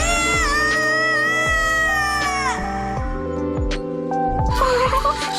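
A cartoon cat in Naruto Shippuden meows in drawn-out, wavering cries that rise and fall, loud and close. A few shorter calls and some soundtrack noise come in near the end.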